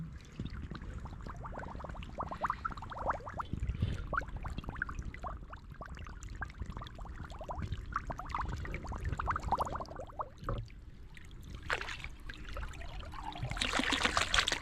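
Running stream water gurgles and trickles steadily as a military water bottle fills, with a brief splash and a louder rush of water near the end.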